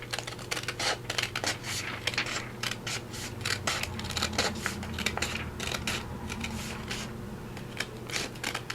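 Scissors snip through a junk mail envelope, trimming an uneven edge, in a run of quick, close, crisp cuts with soft paper rustling between them.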